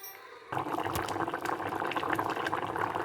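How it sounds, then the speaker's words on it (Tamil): A pot of thick fish curry bubbles and simmers steadily, a dense continuous gurgling and popping that starts abruptly after a brief quieter moment. "பாருங்க குழம்பு அந்த மாதிரி கொதிக்குது"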